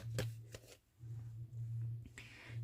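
Tarot cards being shuffled by hand, with several quick riffling bursts and soft slides against a steady low hum, close and fairly quiet.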